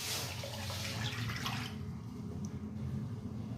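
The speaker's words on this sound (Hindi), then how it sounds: "हम चूल्हे पे कढ़ाई चढ़ा लिए, फिर इसमें 1/2 लीटर पानी ऐड कर लेंगे" Water pours into a wok on a stove, a steady rushing splash that is louder at first and then settles into a quieter flow, with no talk.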